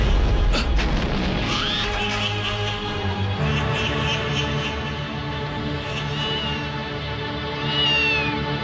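A demon cat sound effect, a supernatural cat in a martial-arts fight that turns into a snake, gives loud, drawn-out eerie meows over a dense rumbling, booming dramatic background that continues throughout.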